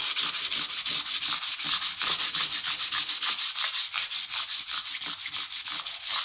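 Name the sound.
sanding a guitar fretboard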